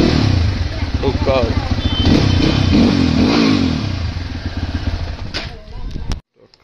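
A dirt bike engine runs loud and close after a cold-weather start, revving with a rough clatter. Someone talks over it, and the sound cuts off near the end.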